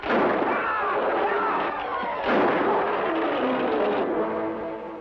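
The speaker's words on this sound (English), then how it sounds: "No, gunshots. They came from town." A dense, continuous barrage of gunfire rumbles throughout, with heavier bursts partway through and no clear pauses between shots.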